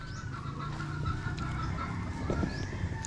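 Chickens clucking in a small backyard coop, with repeated short clucks and calls over steady outdoor background noise, moderately near and continuous throughout.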